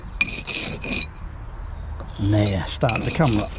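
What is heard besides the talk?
scraping excess mortar off a brick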